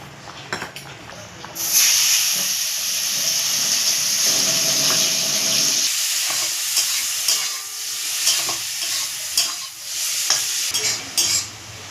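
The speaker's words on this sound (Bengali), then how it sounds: "চিংড়ি মাছগুলোকে ভাজার জন্য কড়াইয়ের মধ্যে তেল দিয়ে দেবো" Prawns frying in oil in a wok, with a loud, steady sizzle that starts abruptly after a quieter moment and stays strong, broken by occasional stirring scrapes.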